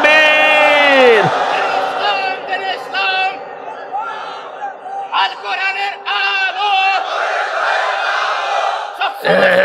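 A loud preacher's call at an Islamic sermon (waz) is answered by a large crowd roaring takbir in unison, the shouts swelling and overlapping in several waves before breaking off.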